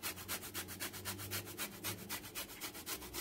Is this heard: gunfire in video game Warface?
no